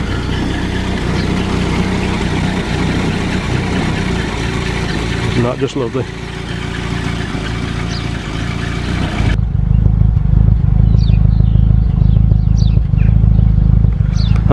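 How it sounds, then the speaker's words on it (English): A Ford Anglia E494A, an original survivor classic British car with about 40,000 miles and probably a reconditioned engine, idles quietly and steadily with a low hum. People talk over it, and the engine grows louder and more up close toward the end. "That is one very quiet sounding engine."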